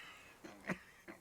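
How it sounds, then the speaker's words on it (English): A character in Disco Elysium coughs and clears his throat, giving three short, rough bursts, the middle one the strongest, fairly quiet and with no talk over it. "His hand shakes and he breaks into a coughing fit."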